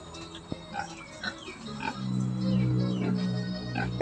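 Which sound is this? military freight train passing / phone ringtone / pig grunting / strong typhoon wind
pig grunting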